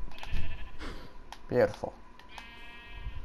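Sheep bleat in a Minecraft game, a few short wavering bleats rising over the game's background sounds, with a person talking briefly alongside them.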